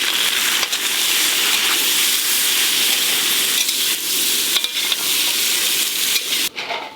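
Vegetables frying with turmeric and salt for a Bengali shukto, a loud, continuous close sizzle with occasional stirring scrapes and knocks throughout, dropping briefly near the end.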